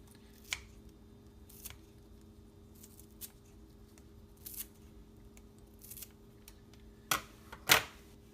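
Turmeric root pieces cut with a blade, heard as a series of short, sharp snips spaced irregularly and growing louder near the end, close by and alone against a quiet background.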